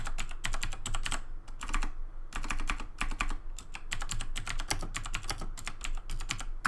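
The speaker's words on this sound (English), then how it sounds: "Typing probably sounds super loud." Close, loud computer keyboard typing in quick irregular bursts of keystrokes with short pauses, running through the whole stretch with no voices.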